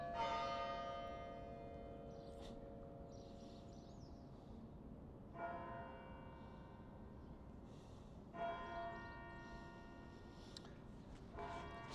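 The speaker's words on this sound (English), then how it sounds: "The bells are coming from up here." Church bells ring out across the Boston College campus in Massachusetts in the evening, heard from some distance as sustained, layered tolling tones that swell afresh in several strikes amid faint outdoor ambience.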